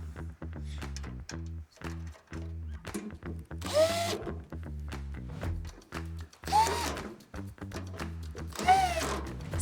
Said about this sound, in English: It's so simple to just put those screws in.